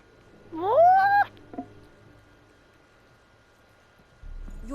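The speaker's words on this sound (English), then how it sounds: "Yes, pet the cat." A cat in the video game Witcher 3 gives a single clear, rising meow while being petted, loud and close, followed by a soft click and quiet background hum.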